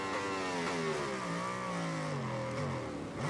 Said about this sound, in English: with bikers running around in the warm-up lap here.